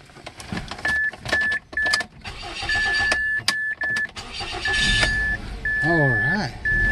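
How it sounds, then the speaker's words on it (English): A 2008 Mazda 3 cranking on a newly installed starter: repeated chimes and beeps, bursts of mechanical cranking, then the engine catching and settling into a steady idle, close by. "Let's go and start the car."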